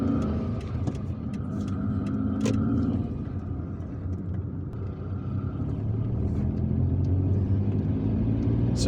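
Steady road rumble and engine drone from inside a car driving through Algiers toward Ain Benian and Bainem Forest, continuous and moderately loud with no talk.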